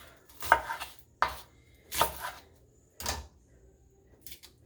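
Onion skin being peeled off by hand or knife on a kitchen counter, heard as four crisp, separate crackling snaps spaced about a second apart, close up with no talking.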